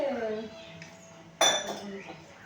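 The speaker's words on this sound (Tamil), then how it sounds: "ஐஸ் போடலாம்ல. ஜூஸை போட்டு" Ice and pomegranate juice are poured into glasses: a sharp clinking clatter of ice against glass rings out once, near and clear, after a quieter stretch of kitchen noise.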